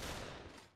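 Gunfire from the party video game Pummel Party, a dense, continuous burst of rapid shots that stays loud throughout and tails off slightly at the end, with no talking over it.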